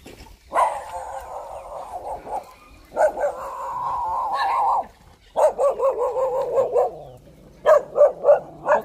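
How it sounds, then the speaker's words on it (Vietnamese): A dog barking and whining outdoors on rural land in Phú Mỹ, Vietnam: long drawn-out yelps, then a run of rapid sharp barks, close and loud, with no talk. "Chó"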